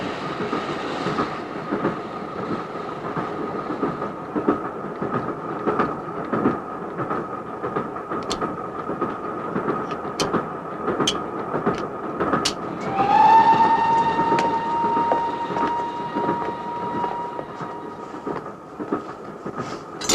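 A moving passenger train rumbles steadily with rail clatter throughout, and a brief squealing tone rises near the end.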